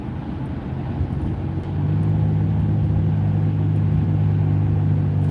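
A car in traffic cruises and then slows under braking, a steady low engine and road rumble that swells and holds a droning hum, heard from inside the cabin.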